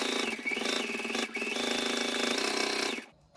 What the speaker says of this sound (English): Keep sewing all the way around